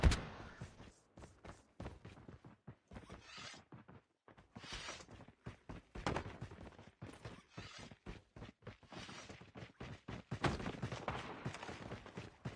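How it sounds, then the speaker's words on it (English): Gunfire in an online shooter video game, a long stretch of rapid, dense shots and bursts with short gaps, close and fairly loud throughout, with no talk. "Someone's using a sniper, someone is aiming you"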